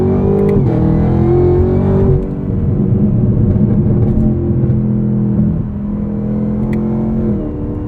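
A 2022 Chevrolet Camaro ZL1 1LE with a 10-speed automatic in manual mode, accelerating hard in first gear: a loud, close, sustained engine roar that rises, dips briefly as the pitch shifts, then builds again, with a rumbling low end throughout.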